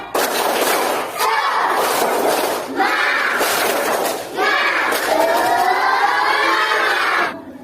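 Schoolchildren in a classroom do the tepuk semangat chant, loud group voices shouting rhythmic syllables with sharp claps in several bursts, close and continuous for several seconds.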